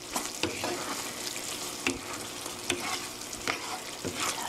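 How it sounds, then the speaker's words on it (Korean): One-pot fusilli in tomato sauce with olive oil being stirred in a pan, a close scraping spoon with periodic knocks over a steady sizzle, no voices. "올리브 오일 1 테이블 스푼 넣어주세요. 고루 섞어주시고요."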